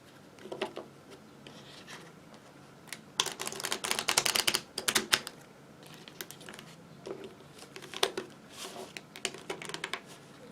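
Tarot cards being shuffled close by, bursts of rapid riffling and flicking clatter with quieter gaps between, no voices.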